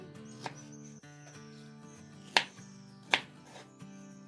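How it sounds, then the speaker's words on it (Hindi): Guava being cut with a knife for a creamy fruit chaat, giving a few sharp chops on a board over a steady tonal background hum. "तो इस तरह हम इसको कटिंग कर लेंगे।"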